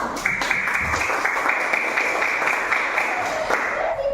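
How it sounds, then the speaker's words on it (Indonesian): Schoolchildren in a classroom clap in unison with an even, repeating rhythm, loud and close, while voices murmur under the clapping. "kasih tepuk tangan"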